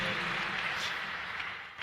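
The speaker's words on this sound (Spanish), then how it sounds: "Si usted puede aplaudir a Dios, apláudale fuerte" A church congregation claps loudly and steadily at a Spanish-language worship service, a dense, even wash of applause that holds for a couple of seconds before tapering slightly.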